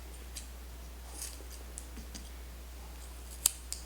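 Scissors cutting off excess material while matting a picture, a few faint quiet snips and clicks spread across a hushed room, with one sharper cut near the end.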